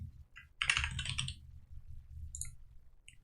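Quick bursts of keystrokes on a computer keyboard, a dense cluster of clicks followed by a few sparse taps, close and fairly quiet over low room hum.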